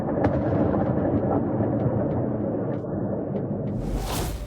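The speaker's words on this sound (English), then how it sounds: "Explosions thundered in Tuapse." Explosions at night in Tuapse after a port attack by naval drones: deep, continuous rumbling booms rolling on without pause, with sharp cracks scattered through and a hissing roar rising near the end.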